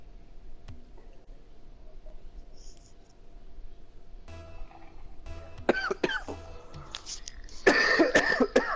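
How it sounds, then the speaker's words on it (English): A few harsh coughs and throat-clearing bursts break a quiet room, close to the mic, with small clicks and rustles in between. "Just coughing over here, no big deal."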